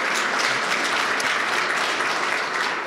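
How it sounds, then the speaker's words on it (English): A church congregation applauds steadily throughout, a dense, even wash of many hands clapping at close range with no break and no voices over it. "you can clap. You can go ahead and clap."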